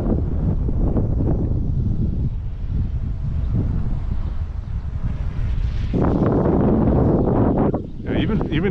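Steady broadband wind roar buffets the microphone while an Eachine E120S RC helicopter flies outdoors, loud and continuous throughout with a brief dip near the end.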